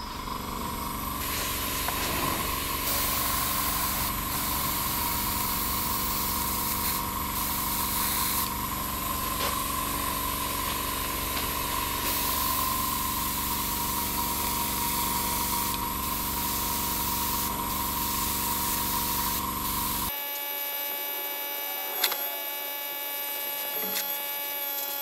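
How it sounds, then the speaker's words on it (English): An airbrush lays a light dusting of paint onto a laser-cut scale model of a station, a continuous close hiss with a faint electrical hum beneath, cutting off near the end to a quiet background. "it's really tempting to put too much paint down, so that's why I only go for a tiny amount of the airbrush"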